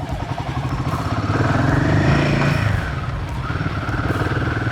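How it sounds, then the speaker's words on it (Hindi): Royal Enfield Himalayan 450 motorcycle ridden slowly in first gear around training cones, its engine a steady close throb that swells briefly mid-way and then eases back, with no one speaking over it. "अब मैं इस कोन के पास आके फर्स्ट गियर पे करती हूँ, और मेरी भी कंट्रोल अच्छी हो रही है बाइक पे।"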